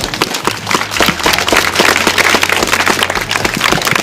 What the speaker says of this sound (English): Can she have a round of applause for that?